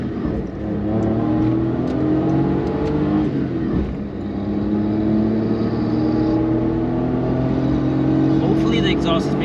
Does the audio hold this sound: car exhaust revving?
yes